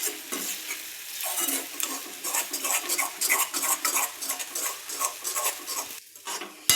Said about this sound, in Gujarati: ધીમા ગેસે જ આપણે એને શેકાવા દઈશું।